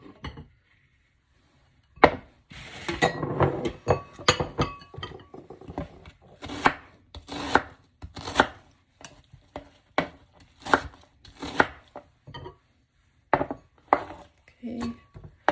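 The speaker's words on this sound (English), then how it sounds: "we have this zucchini to chop up, and then the next thing we're gonna chop up is the let's do some onions" Knife chopping zucchini and onions on a cutting board for Mexican meatball soup: close, crisp blade strikes in uneven bursts with brief pauses between runs.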